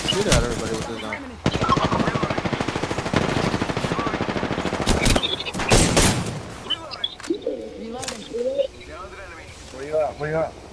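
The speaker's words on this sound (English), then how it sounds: "I'm trying to shoot at everybody with this gun" Rapid, sustained sniper-rifle gunfire from the triple take in a shooting video game, dense bursts that stop and start, with talk over parts of it.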